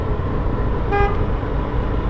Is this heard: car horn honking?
yes